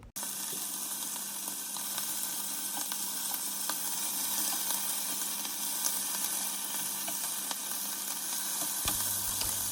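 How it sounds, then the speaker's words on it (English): Bacon strips sizzle steadily in a hot frying pan, a close, even crackling hiss with small pops that carries on alone without talk. "let's get that bacon on"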